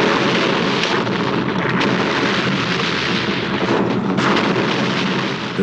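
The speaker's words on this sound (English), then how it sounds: "The biggest in Asia explosion." A massive factory demolition explosion in a Jackie Chan stunt, billed as the biggest in Asia, roars as a continuous loud, rumbling blast with crackling bursts throughout.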